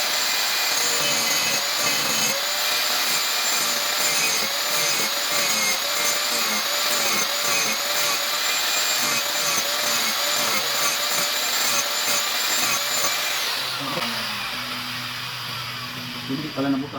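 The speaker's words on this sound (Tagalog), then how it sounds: "Na grinder lang yung ginagamit ko." Angle grinder boring into a steel pipe, a loud continuous high-pitched grinding whine for about fourteen seconds that winds down to lower rattling and scraping at the end.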